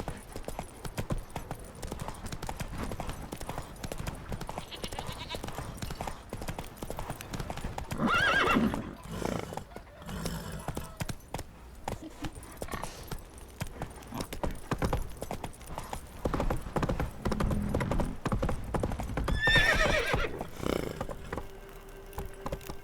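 Hoofbeats of Roach, Geralt's horse in The Witcher 3: Wild Hunt, galloping steadily throughout, with loud neighs and whinnies breaking in midway and near the end.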